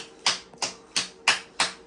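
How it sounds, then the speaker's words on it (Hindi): Hands clap five times in an even, brisk rhythm, each clap a sharp, close crack that fades quickly, with nothing else heard between them. "ताली ताली ताली ताली मारो"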